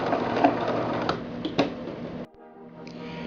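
A sewing machine runs in a steady whirring burst for about two seconds while backstitching at the end of a seam on a purse pack, then stops, leaving quiet handling sounds.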